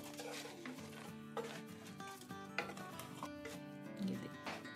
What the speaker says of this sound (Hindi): ये जो फ्राई की हुई मछली मैंने रखी हुई थी ये डालेंगे इसमें